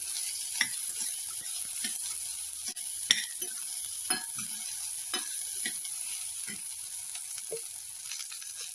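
Bitter gourd with salt and turmeric sizzles in a pan while a utensil scrapes and stirs in irregular strokes, with occasional clicks of metal, close and fairly clear.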